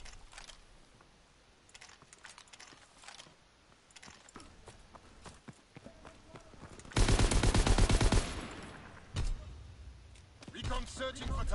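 Gunfire in the video game Call of Duty WW2: scattered faint shots and clicks give way to a loud sustained burst of rapid automatic fire, then a few more crackling shots near the end.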